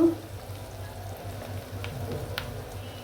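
Onion frying in a pan gives a faint, steady sizzle with a low hum beneath, a few soft clicks and scrapes breaking through near the middle.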